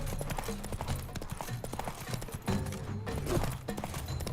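Horse hooves gallop in The Witcher 3 during horseback fighting, a steady loud clip-clop rhythm with scattered game noise and effects layered over it.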